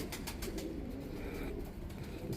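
A pigeon coos in a loft, soft low repeated calls with some brief higher chirps early on, fairly close and without talk.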